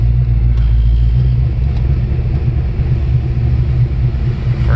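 A car with a swapped engine pulls away in first gear as the clutch is let out, a steady, loud low engine rumble droning continuously and smoothly, without bucking, close by inside the cabin.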